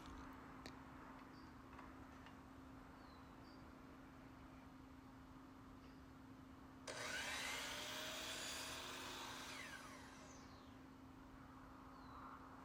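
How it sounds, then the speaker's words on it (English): Large power saw cutting wood, a loud burst of broadband whine lasting about three seconds and standing out from a quiet steady hum that runs before and after it. "This huge saw is a little overkill to cut this one thing"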